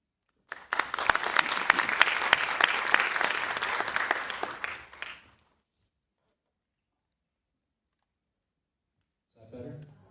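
Audience applause at the Public Allies San Antonio 2018 graduation ceremony, a dense burst of clapping for about five seconds that ends abruptly, followed by silence and a faint brief sound near the end.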